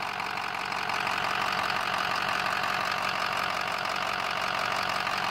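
A 2006 Ford F350 with a 6.0L diesel engine runs steadily at idle, a loud, continuous rattling diesel clatter with no pauses and no talking.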